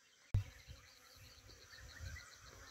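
Honey bees buzz faintly on maize tassels in a low, steady hum after a sharp click, a soft drone continuing throughout.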